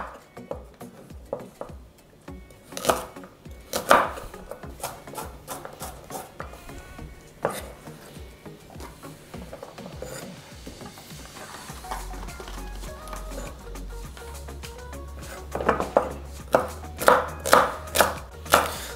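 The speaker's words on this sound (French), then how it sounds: "on va juste trancher les carottes" A knife slicing young hand-harvested carrots from North Finistère on a cutting board, with bursts of crisp, quick cuts separated by pauses, the strokes growing faster and more regular toward the end.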